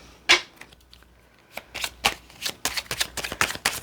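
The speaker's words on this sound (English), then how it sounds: "Okay, so let's shuffle." Tarot cards being shuffled close up: a sharp snap, then a string of quick papery riffles and taps that grow busier toward the end, with no talking.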